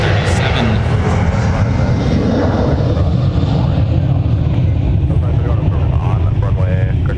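A Delta Boeing 737 airliner at MSP airport under a smoky haze, its engines a steady, loud broadband roar that holds throughout without a break, with faint speech beneath it.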